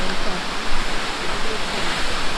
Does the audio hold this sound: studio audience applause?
no